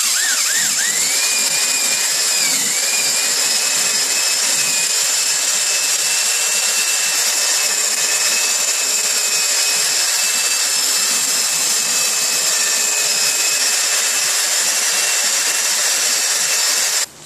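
Steady high-pitched whine of a 3-inch porting tool grinding an Edelbrock Victor X aluminium intake manifold, running continuously and close for the whole stretch with a brief pitch dip at the start, no voices.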